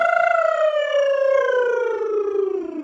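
A singer's voice glides steadily downward through a lip roll in a siren vocal exercise, a continuous buzzing slide mimicking a siren, held close and loud for about three seconds.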